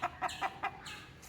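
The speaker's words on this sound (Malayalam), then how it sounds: "നമ്മൾ കോഴി വന്നിട്ടുണ്ട് കേട്ടോ." A chicken clucks in short repeated bursts, four or five sharp calls in quick succession, fairly close and clear with no voices over it.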